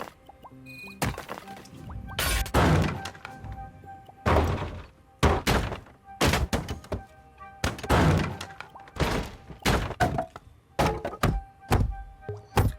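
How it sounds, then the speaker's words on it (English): A series of heavy, dull thud sound effects in the PS4 game Dreams repeats at irregular intervals, each a sharp, close impact with a short decay and quiet gaps between. "I think this thud will do nicely."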